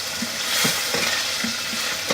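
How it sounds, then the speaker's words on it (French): Turkey escalope pieces simmering in olive oil and poultry stock, a steady close sizzle with occasional soft stirring scrapes in the pan. "Là, on laisse bien mijoter la viande."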